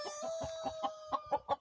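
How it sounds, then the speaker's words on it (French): Vorwerk chickens, two hens and a rooster, give a quick run of about eight soft, rhythmic clucks, fairly close and unaccompanied by talk. "Donc les 2 poules et le coq"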